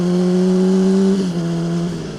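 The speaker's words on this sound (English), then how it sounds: "I forgot just how loud my two brothers' exhaust was." A 2007 Honda CBR600RR sport bike with a loud exhaust holds a steady, close, droning engine note, then dips and shifts pitch as the revs change, with no talking.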